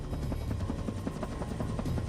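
Rotor blades of the Albatross, a fictional flying machine held aloft by tiny blades, whir in a steady rapid pulsing drone, loud and continuous with no other sounds.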